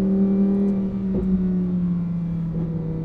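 A Lamborghini Huracán EVO engine holds a steady, fairly loud rev with a clear sustained tone that dips slightly, heard close up and alone.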